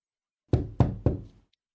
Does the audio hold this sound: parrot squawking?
no